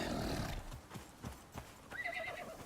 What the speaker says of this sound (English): He's making a lot of loud little horse noises.